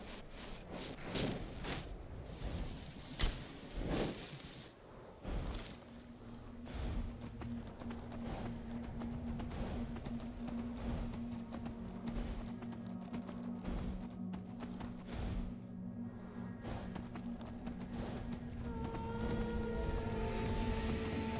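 Horse hooves clip-clop in a quick galloping rhythm that carries on throughout in the video game Skyrim, with a faint tonal drone rising near the end.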